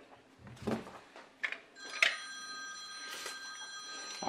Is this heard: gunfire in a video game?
no